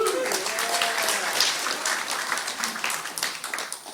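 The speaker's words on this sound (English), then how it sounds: "My sponsor would tell you you're clapping for God and not for me." Audience applause fills a women's sobriety fellowship meeting room, a continuous wash of many hands clapping at moderate volume, with a brief voice heard at the start.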